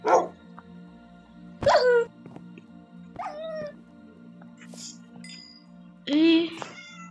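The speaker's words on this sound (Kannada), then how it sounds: "ನೋಡಿ, ಡಾಗ್ ಅಲ್ಲ, ವುಲ್ಫ್." Several short wolf yelps and whines from a video game come in separate bursts, clear and close, with a steady low hum underneath.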